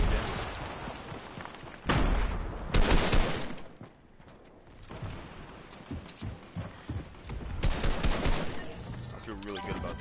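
Shotgun gunfire in a video game, fired at close range: several loud, sharp blasts with heavy thumps, interspersed with quieter clattering game sounds, no talk over the shots.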